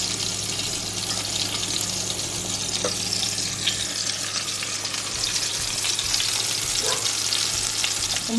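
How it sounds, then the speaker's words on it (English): Chicken meatballs sear in a hot pan with a steady, dense sizzle that runs throughout, with a few faint clinks and spatters and no talking. "start dropping meatballs. Make sure you adjust your heat so that way you get a good sear"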